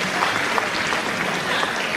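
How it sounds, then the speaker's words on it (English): An audience at a university keynote at William Paterson University gives a round of applause, a dense, even wash of clapping that fills the whole moment with no speech over it. "Let's give Jenny a round of applause."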